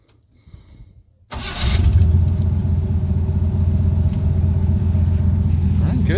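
A 1976 Chevy C30 truck engine turning over and catching after a brief quiet stretch with faint cranking, then settling into a steady, loud, deep idle close by.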